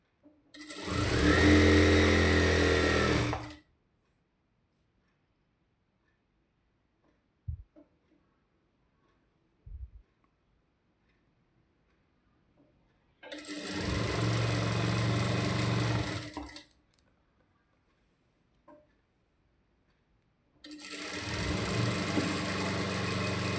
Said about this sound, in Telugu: ఎంత స్పీడ్గా కుట్టినా కూడా నార్మల్గా వచ్చేస్తుంది కుట్టు అనేది